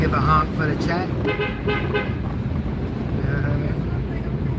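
A car horn toots briefly from a vehicle driving through city streets between the Bronx and Washington Heights in Manhattan, amid steady road and wind noise with someone talking over it.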